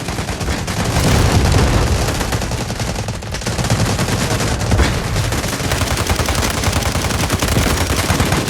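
Loud, dense gunfire rattles almost nonstop in the video game Delta Force Mobile, with rapid automatic bursts and heavy shots blending into a continuous barrage.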